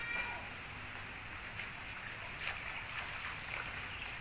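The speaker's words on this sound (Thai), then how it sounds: "ถ้าเข้าหน้าฝนแล้วฝนก็จะตกตลอดทั้งวัน" Steady monsoon-season rain falls with a soft, continuous hiss and occasional patters of drops, quiet and unbroken throughout.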